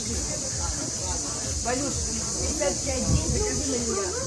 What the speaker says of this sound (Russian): Цикады просто заполняют звуковое пространство.